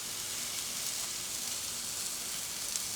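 Beef sizzling in a hot pan with a little oil, a steady close hiss and crackle of frying that holds evenly throughout with no talk.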